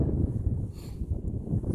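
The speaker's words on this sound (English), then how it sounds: "It's really windy." Gusty wind buffeting a microphone outdoors during metal detecting, a low, uneven rumble that swells and dips continuously for a moment, with no voices.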